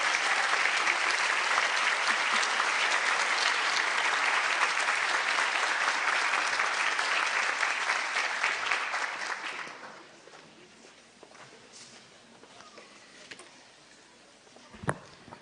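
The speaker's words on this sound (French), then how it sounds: "Donc le public va vous applaudir." Sustained audience applause at a formal session, loud and steady for about ten seconds, then breaking off into quiet room noise with a few stray claps.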